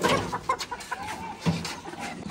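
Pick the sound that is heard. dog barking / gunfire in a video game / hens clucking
hens clucking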